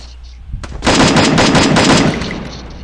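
Rapid automatic gunfire in the shooting game Free Fire, a loud sustained burst lasting about a second and a half before trailing off, with faint background game noise.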